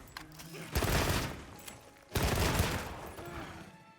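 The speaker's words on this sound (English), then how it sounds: "Going for the chaser shot." Two loud bursts of rapid shots from a light bowgun chaser shot in Monster Hunter Wilds, each a dense crackling volley lasting over a second, separated by a brief gap.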